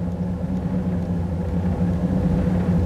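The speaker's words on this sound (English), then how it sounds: "We get a little bit of idle variation, but that's normal for this car." A third-generation Camaro with a 305 TPI V8 idling in drive, a steady low rumbling engine drone with slight variation in the idle, heard close and alone without any talking.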